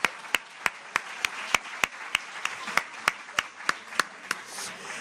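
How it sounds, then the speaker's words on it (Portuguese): Audience applause at a one-minute project presentation session sounds like a gong: about sixteen sharp, evenly spaced single claps ring out at a slow, steady beat and fairly quietly. "eu nunca vi umas palmas parecerem tanto um gongo"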